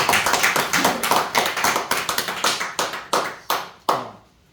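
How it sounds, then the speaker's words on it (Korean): Clapping from a small church congregation during a lecture on Korean church history, quick scattered claps that thin out into a few separate slaps and stop, with the room going quiet. "박수 한번 칩시다."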